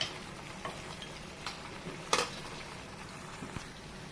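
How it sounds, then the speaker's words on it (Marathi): Ground paste of garlic, ginger, chilli powder, coriander powder and garam masala dropped into a pan for chole masala, frying with a soft continuous sizzle punctuated by light scraping taps and one sharper clatter midway. "आता हे तयार केलेलं वाटण त्याच्यामध्ये टाकून घेऊया"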